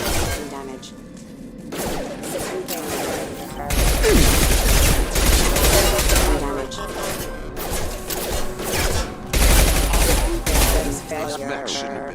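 Heavy gunfire from a Mass Effect 2 firefight comes in loud bursts of rapid shots separated by quieter stretches, with voices talking between the volleys.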